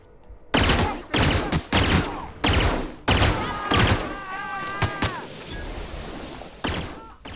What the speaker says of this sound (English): I'll shoot him in the legs first.